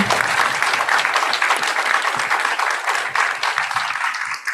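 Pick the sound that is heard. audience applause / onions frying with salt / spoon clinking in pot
audience applause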